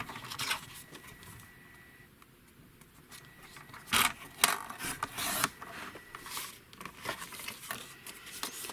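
Scissors snip through fabric along a drawn line for a sewn pocket, a run of sharp close cuts and rustles that grows busier after a quiet start, with no talk.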